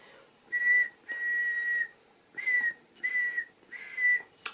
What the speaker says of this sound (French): vous l'aurez remarqué, je ne sais toujours pas siffler.